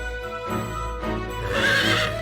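A game horse whinnies in a short, bright, wavering neigh that swells toward the end, alone and close, with no voices over it.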